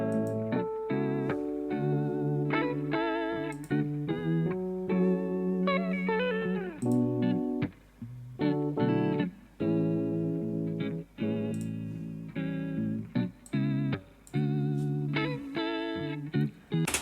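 Keyboard tones processed through the Martinic Retro Pack plugin with echo added on top of a chorus effect, giving sustained, repeating, thickened chords and melodic notes that ring out steadily and loudly with no talking.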